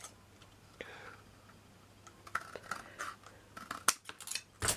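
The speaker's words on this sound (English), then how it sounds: "I'm just going to cut this down a little bit." Scissors snipping paper for a miniature crooked house craft, a scattered series of small, close crisp snips and clicks over a quiet room hum, growing busier toward the end.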